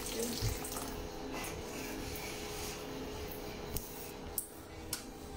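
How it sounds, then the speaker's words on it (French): Tap water runs steadily as a cooking pot is rinsed in a kitchen in Cameroon, a continuous close splashing hiss with a few small clinks, and a voice speaks briefly. "mais il faut toujours rincer la marmite"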